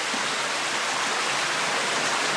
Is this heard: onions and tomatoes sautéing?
no